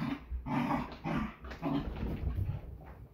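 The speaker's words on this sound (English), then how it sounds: "let's try to speak over these growling dogs" Dogs growling in a series of rough, rumbling bursts at moderate volume, with short pauses between each snarl and no talking over them.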